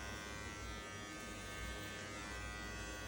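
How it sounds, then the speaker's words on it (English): Electric hair clippers hum steadily in clipper-over-comb work on long hair during a mohawk fade, a faint, continuous close buzz with no talking. "So now we're gonna go in with clipper over comb and just barely take off all the really long hair."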